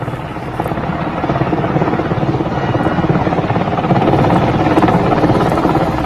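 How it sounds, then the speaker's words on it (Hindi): A Black Hawk helicopter flying over Kandahar, its rotor chop and engine drone steady and loud throughout, with no talking. "लेकिन ये हेलीकॉप्टर इस वक्त हवा में उड़ता हुआ हमें नजर आ रहा है"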